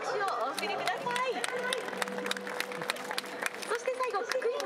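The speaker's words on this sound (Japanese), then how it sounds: "どうぞ大きな拍手をお送りください。" An awards ceremony for stadium beer vendors at Chiba Lotte draws a crowd's scattered, lively clapping, with voices and chatter mixed in and a person speaking over it.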